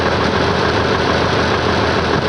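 Oliver 1850 tractor engine running at a steady idle, a continuous broadband low rumble with even loudness throughout, close by and with no speech over it.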